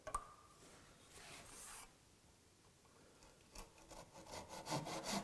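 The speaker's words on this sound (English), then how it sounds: "Now we can saw down to the gauge line." A finer hand saw cuts wood down to a gauge line in quiet, raspy strokes, faint at first and then a quicker run of louder strokes toward the end, with no talking.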